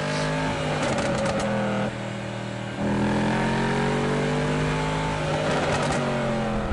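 A car accelerates hard on a lap of Los Angeles starting from Mulholland, its engine loud and close, rising through the gears with a brief dip in pitch at a gear change before revving up again.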